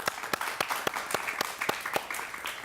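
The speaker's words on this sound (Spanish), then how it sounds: "Un aplauso para él, por favor." Sparse applause from a small studio audience at a TV interview, a few hands clapping in an uneven rhythm with distinct individual claps standing out, moderately close, no talk over it.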